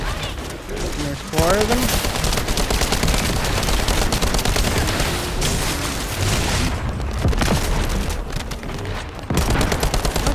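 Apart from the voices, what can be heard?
gunfire in video game The First Descendant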